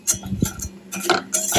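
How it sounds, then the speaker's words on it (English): A whisk stirs a frothy macaroni cheese sauce of flour and milk in a pan on the hob, making quick, irregular metallic ticks and clinks close by. "And then I always use a whisk"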